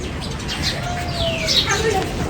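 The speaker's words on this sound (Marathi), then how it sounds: "इतक्या चिमण्या ना चिव चिव चिव चिव आवाज येत असेल" Sparrows chirp on a rooftop terrace: a few thin, high tweets and short whistled calls, fairly faint, over a steady background hiss.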